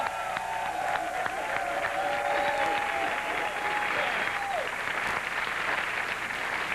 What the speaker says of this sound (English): Let's give the comedians a hand.